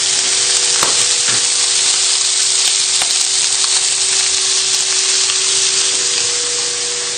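Sausages fry in a pan on the lowest burner, giving a steady, dense sizzle with occasional soft pops and crackles, close and continuous throughout with no voices.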